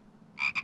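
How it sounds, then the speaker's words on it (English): A single frog croak on a children's farm-animal sound game, two quick nasal pulses close and clear against near silence. "It's a frog."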